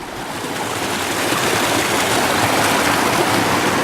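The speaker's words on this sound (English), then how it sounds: "Pretty nice stream of water here for being a Death Valley area" Water rushes steadily in a flowing stream in a desert canyon near Panamint City, Death Valley area, a constant nearby babble and splash with no voices.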